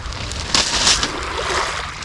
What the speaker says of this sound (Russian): Сегодня слышен шум волны такой небольшой.